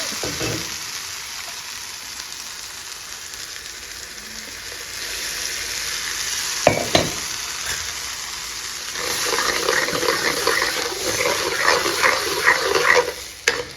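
Chutney with a little added water simmers in a pan, steady sizzling and bubbling, with a brief clatter partway through and louder spattering toward the end.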